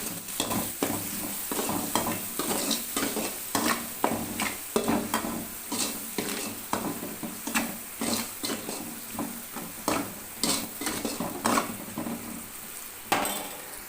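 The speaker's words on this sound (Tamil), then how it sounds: "இது ரெண்டும் போட்டிங்கன்னா வெங்காயம் வந்து சீக்கிரம் வதங்கிடும்" Onions sautéing in a hot pan with turmeric and salt, stirred in quick repeated scrapes and clinks of a utensil over a constant sizzle, close up and without speech.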